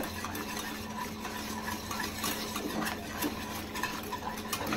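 A spoon steadily stirs thickening orange-flavoured milk pudding in a cooking pot, giving continuous scraping and sloshing at close range with no talking.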